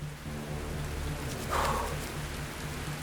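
Rain falls on an alien planet in a video game, a soft continuous hiss over a low steady hum, with a brief louder whoosh midway.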